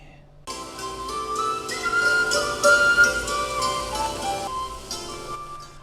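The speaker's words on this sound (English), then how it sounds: "Group of musicians playing fiddle, guitar, tin whistles, harmonica, and drums set up at the mall today." Tin whistles lead a traditional Irish music group of fiddle, guitar, harmonica and drums playing a lively tune at a shopping mall on St. Patrick's Day, bright and fairly close after a brief quiet start.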